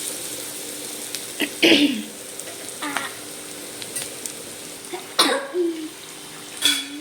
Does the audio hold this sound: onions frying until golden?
yes